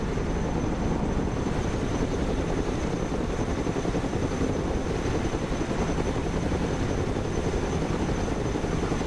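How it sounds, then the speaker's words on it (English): Helicopter taking off in the video game Broken Arrow, a loud, steady rotor and engine roar holding constant throughout with no pauses. "Helicopters are impressive machines. Boy, are they noisy."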